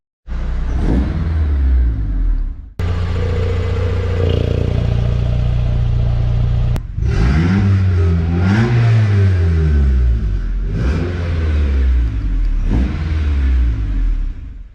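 A Honda-powered Ford Ranger with a turbo and full 2.5-inch exhaust revs hard and close, rising and falling in repeated pulls, with sharp cuts between bursts and an engine that sounds loud and throaty throughout.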